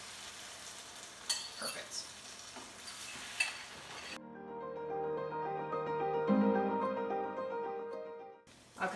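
Eggs cook on low heat in a pan while being stirred, a steady soft sizzle with scraping strokes that swells and fades, after one brief spoken word at the start.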